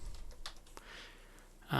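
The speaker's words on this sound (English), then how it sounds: "I'm going to put my calculation right here, and I'm going to start typing" Typing on a computer keyboard while entering a formula in Excel, with a few soft, scattered key taps in the first second, then quiet, and a brief louder sound at the very end.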